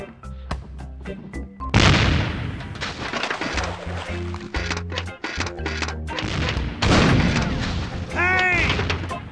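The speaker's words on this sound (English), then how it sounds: "Hey, it's one of those new self-loading cannons I've heard so much about." In The Curse of Monkey Island, a self-loading ship's cannon fires a burst of loud, booming blasts, several heavy shots and crashes crowding together, followed by a brief rising whistle.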